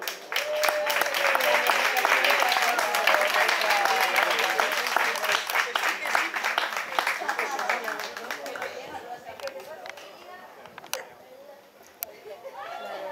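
A tavern crowd applauds after a live music set, dense clapping with some cheering that gradually thins into scattered claps and chatter, with a few sharp isolated claps near the end.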